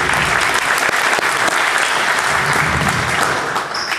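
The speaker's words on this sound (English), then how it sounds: "have another round of applause on that" An audience at a coaching clinic session gives a sustained round of dense, even clapping that holds steady throughout and tapers slightly at the close.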